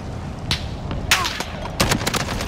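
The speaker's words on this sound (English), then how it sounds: "I shot at one, the other one just shot at me at the same time." Gunfire in Call of Duty Warzone comes in sharp, loud shots and short bursts spread over a couple of seconds, mixed with brief voice chat between the shots.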